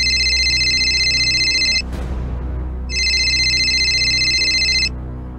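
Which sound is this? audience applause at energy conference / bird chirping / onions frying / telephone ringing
telephone ringing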